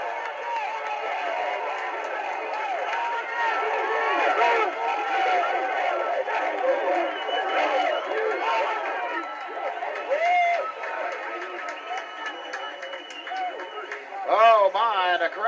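Spectators roar and cheer at an NAIA World Series baseball championship game after a go-ahead run in the sixth inning, a sustained crowd swell with a commentator talking over it throughout.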